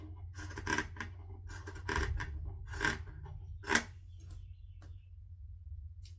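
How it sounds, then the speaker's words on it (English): Zigzag pinking scissors snipping through fabric along a curved seam allowance, a series of crisp close-up cuts in irregular bursts against a low steady background hum, with no talking. "Love zigzag scissors."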